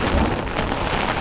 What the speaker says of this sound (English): we're having to wait out a thunderstorm